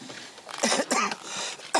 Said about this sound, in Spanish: Tengo un poco de tos todavía.